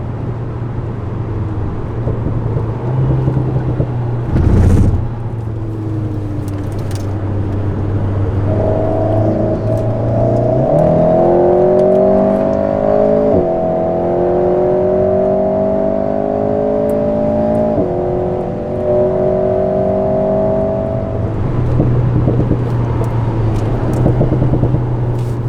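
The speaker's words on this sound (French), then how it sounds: "Je vois déjà l'Alpine de rallye qui nous dépasse" An Alpine rally car on the Le Mans 24 Hours circuit approaches and overtakes during a parade, its engine rising in pitch through several gear changes as it passes close by, loud over steady road noise.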